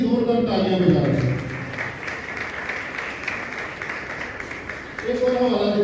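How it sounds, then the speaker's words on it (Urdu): Congregation applause for Jesus Christ during a sermon, a broad wash of clapping that swells after a voice calls out, with talk at the start and end. "خداوند یسوع مسیح کے لیے زوردار تالیاں بجائیں۔"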